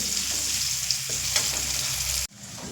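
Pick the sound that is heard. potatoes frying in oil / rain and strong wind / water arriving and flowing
potatoes frying in oil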